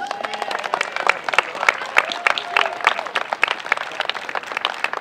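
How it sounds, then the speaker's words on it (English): Applause at a sports hall of fame induction ceremony, with a crowd clapping in scattered bursts and voices mixed in underneath. "Give Mike a round of applause, please."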